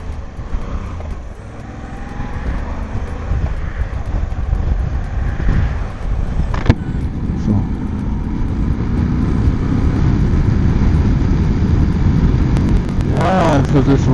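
Moto Guzzi V85 TT 2024 motorcycle riding in fifth gear at low revs, a deep steady engine rumble mixed with wind buffeting that grows slightly louder, with a rider talking over it.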